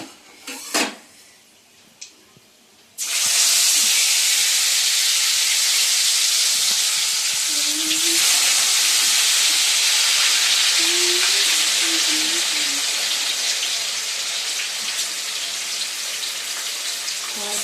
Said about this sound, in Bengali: এবার চিকেনগুলো দিয়ে দেবো, গ্যাসটা কমিয়ে দিই।